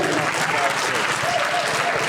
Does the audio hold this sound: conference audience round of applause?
yes